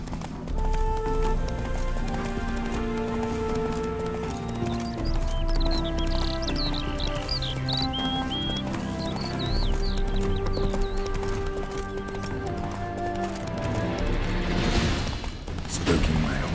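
Roach, a horse in The Witcher 3: Wild Hunt (Heart of Stone), clip-clops along at a steady pace under a music score and gives a shrill neigh partway through, with a brief gusty rush near the end.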